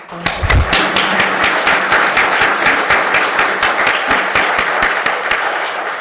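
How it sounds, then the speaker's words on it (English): Crowd applause for local poets at an outdoor poetry and barbecue event, with sharp, distinct hand claps in a steady rhythm over several seconds. "I would love to have us all give a big round of applause to our readers again."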